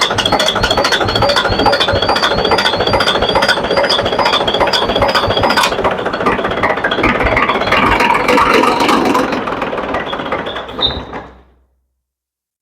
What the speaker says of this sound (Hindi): इंजन थोड़ा सा स्टार्ट होने का कोशिश किया लेकिन बंद हो गया